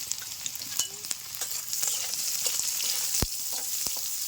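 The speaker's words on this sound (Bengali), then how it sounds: "কাঁচামরিচ আর পেঁয়াজটা একসঙ্গে ভালো করে ভেজে নিচ্ছি।" Onions and green chillies sizzle in hot oil in a wok, a steady close frying hiss with scattered crackles and pops, one sharp spatter near the end.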